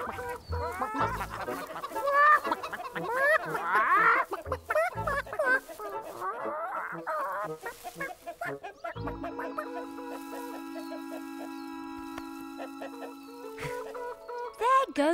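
Chickens clucking and squawking close by in bursts, mixed with talk, before a sustained tonal passage of music takes over.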